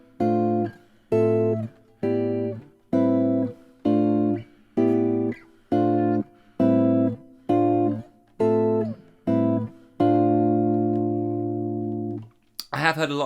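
Guitar comping a modal jazz progression, with about ten evenly spaced chord stabs followed by one longer sustained chord that rings out, ending on a brief noisy scrape.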